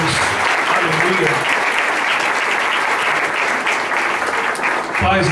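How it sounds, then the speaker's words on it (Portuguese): A church congregation claps in praise at an Apostolic evangelical service, a loud, sustained burst of many hands applauding together, with a voice speaking faintly underneath before it cuts off near the end. "Pode aplaudir Jesus, igreja."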